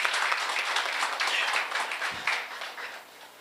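A church congregation applauds in a loud burst of many hands clapping that gradually fades toward the end.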